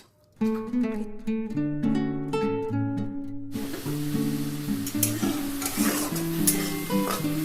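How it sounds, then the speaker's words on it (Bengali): Shrimp for potol chingri fry in oil, a hissing sizzle that rises midway and runs beneath a prominent melodic music track playing throughout. "এবার ভেজে নেব চিংড়ি মাছ।"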